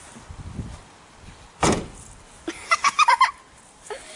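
A Land Rover Freelander 2 door slams shut once with a solid thud during tow bar fitting. A short burst of rapid clicking rattles follows, all fairly faint over low background noise.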